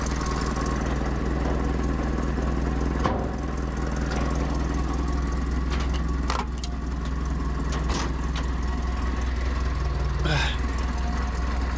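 A GAZ-69 engine runs at a steady idle, its low, even rumble continuing throughout with a few brief knocks and clicks over it.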